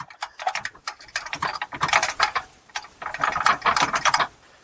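A through bolt is slid into a transmission mount on a Chrysler Town & Country with a 62TE transmission, a close series of rapid metallic clicks and scraping taps in irregular bursts.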